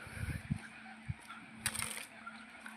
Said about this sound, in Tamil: இப்போயுமே பறவைகள்லாம் பறக்குது பூரா கியா கியா கியா கியான்னு கத்துது